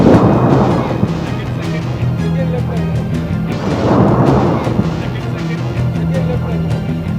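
Bombs dropped by a Sukhoi 30 MKI explode during an air force firepower demonstration in the Rajasthan desert. Two loud, deep booms, a few seconds apart, roll out into long, rumbling tails.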